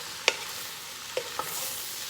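Cabbage stirred in a pot with salt over medium heat for Southern smothered cabbage, a steady soft sizzle broken by a few sharp scraping clicks, close up with no talking.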